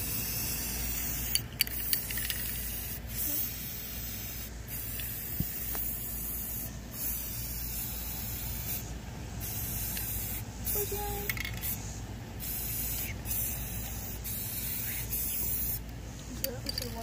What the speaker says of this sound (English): my brother's going to be putting the spray paint into the bucket